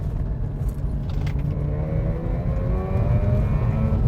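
A car engine rumbles steadily up close, its pitch sliding as it downshifts and swings through a sharp turn.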